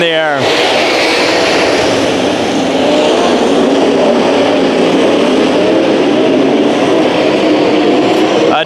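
Modified race cars roar around the dirt oval at Santa Maria Speedway in a heat race, their engines forming a loud, steady, continuous pack drone while an announcer talks over them.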